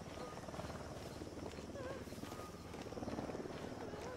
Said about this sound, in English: We got a helicopter somewhere around here.